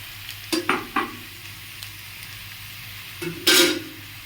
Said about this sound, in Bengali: একদম এরকম করে নাড়াচাড়া করে নেব